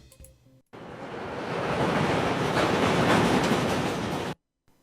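AI-generated clay-animation subway train arriving, heard as a steady broadband rushing roar that swells and holds for several seconds before cutting off abruptly, loud and close, with no voices.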